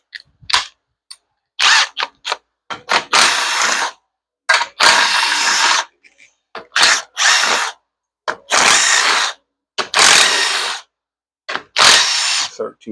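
A ratchet spinning out bolts on a 4L60E transmission valve body, heard as repeated close bursts of rapid clicking with short pauses between each bolt, alone without talk.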